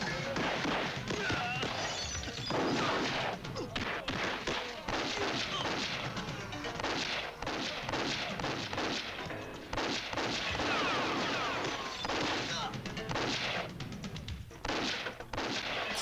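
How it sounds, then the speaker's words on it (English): Squib gunfire and exploding tables from the action film Hard Boiled make a dense, loud barrage of shots, crashes and shattering debris that runs without pause for the whole stretch, with shouting voices mixed into the chaos. "Exploding tables. Love squibs."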